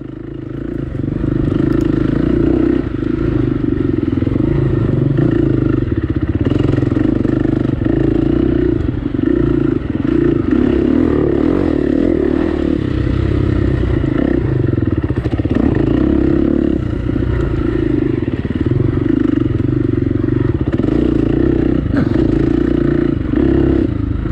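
Enduro dirt bike with electric start ridden along a trail through pine trees during a sprint enduro race, its engine droning continuously and loud with slight rises and falls in revs, plus clattering over rough ground.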